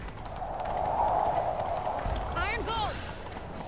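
Roach, the horse in The Witcher 3, gallops in a steady clip-clop of hooves under continuous game sound, with a few whistling tones near the end and a player talking over it.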